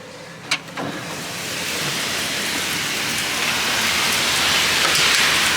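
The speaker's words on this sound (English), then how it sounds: "We got the rain coming in on the porch. The porch is getting soaked." Steady heavy rain pours onto a porch during a tornado warning, a dense continuous hiss that swells slightly louder over time, with a couple of brief splashy knocks near the start.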